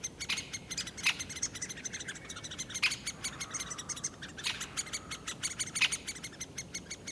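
Great spotted woodpecker chicks calling from inside the nest hole, faint repeated high chirps in an irregular series against a quiet outdoor background with no talk.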